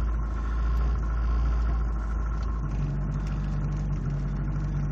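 A 1989 VW Cabriolet engine idles after a cold start, a steady, close, low rumble with a faint whine that rises slightly partway through, with no talking.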